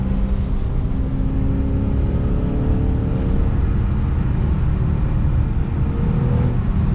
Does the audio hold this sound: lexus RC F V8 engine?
yes